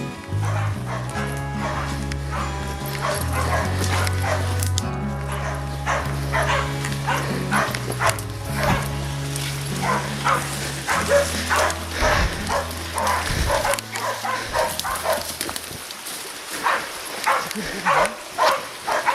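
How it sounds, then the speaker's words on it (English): Hunting dogs bark and yip excitedly while chasing a wild hog, with some whimpering, over loud background music throughout. "the dogs found the pig and started to chase him."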